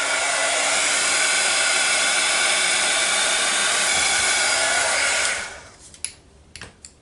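A hair dryer blows steadily and loudly for about five seconds while drying a clipboard during a craft makeover, then cuts off, leaving a few faint handling clicks.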